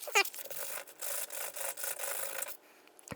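Sandpaper scrubs rust off a small steel front-suspension spring on a motorcycle. It makes close, steady rasping strokes in several bursts for about two and a half seconds, then stops, with no talking.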